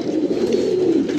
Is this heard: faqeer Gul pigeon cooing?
yes